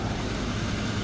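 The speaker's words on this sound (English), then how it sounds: "So now your blower motor is working." A freshly replaced car heater blower motor runs with a steady, even whooshing hum over a short stretch, with no talk.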